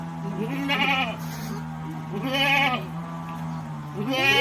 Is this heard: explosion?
no